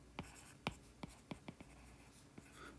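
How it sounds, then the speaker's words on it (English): Pen writing on paper during a physics lecture: a handful of soft, sharp taps and short scratches, spaced irregularly over a faint room hush, close and quiet. "let me write this down"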